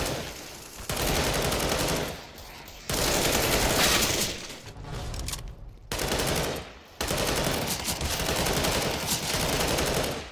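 Automatic rifle fire in Counter-Strike: Global Offensive, loud rapid sustained bursts separated by short pauses, close and dominating, with several long strings of shots.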